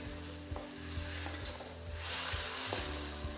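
Chopped onions and tomatoes frying in a pan for kovakkai varuval, giving a steady close sizzle with occasional soft stirring knocks.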